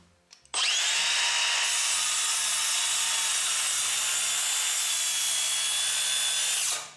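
Makita DHS680Z cordless circular saw cutting through wood, spinning up sharply after a couple of faint clicks, then a loud, steady high whine with a slight rise in pitch as the blade runs through the cut, ending as it spins down.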